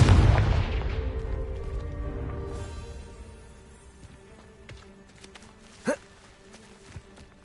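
The Confringo blast spell in the video game Hogwarts Legacy opens with a loud, booming burst that fades over several seconds, followed by scattered footsteps and one sharp crack later.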